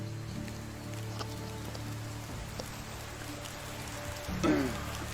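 Steady patter of rain in the medieval village-building game Medieval Dynasty, an even hiss over a low ambient drone with a few soft knocks and a brief louder swish near the end.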